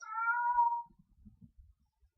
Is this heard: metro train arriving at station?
no